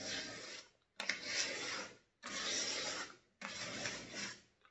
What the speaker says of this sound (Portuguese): Com a peça toda seca, eu vou lixar a peça.